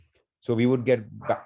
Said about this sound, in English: that's my dog going nuts